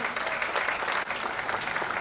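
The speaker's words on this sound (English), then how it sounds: "A big round of applause, ladies and gentlemen." A crowd at a film trailer launch claps continuously and steadily, a dense, lively patter of applause with no voices standing out.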